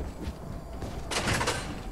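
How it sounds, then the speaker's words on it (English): A door slides or swings shut in a video game, a short scraping whoosh that builds to a louder, brighter burst midway before fading. "Shut the door behind me."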